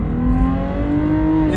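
Lexus IS 250 engine revving steadily, a sustained loud mechanical drone with harmonic tones, close up and with no voices over it.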